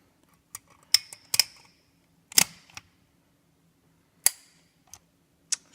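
Parts of a Colt 1911 pistol click and snap sharply while it is reassembled by hand. Sparse, irregular close metallic clicks sound against near silence, and nobody speaks.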